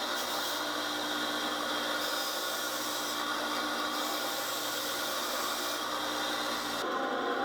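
Rust is cleaned off a rebate plane with a powered tool that whirs in a constant, close, harsh grinding drone for several seconds, shifting slightly near the end.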